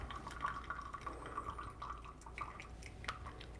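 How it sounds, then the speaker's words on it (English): Water purged from a Flair 58 lever espresso maker trickles and drips into a separate cup, a light, steady patter of droplets heard close up with no talking. "I'm just gonna purge the rest of the water"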